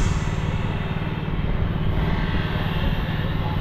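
A Robin small gasoline engine drives a water pump, pushing water through a hose for irrigating during hot weather; its steady, loud, close drone of low rumble holds constant throughout with no pauses.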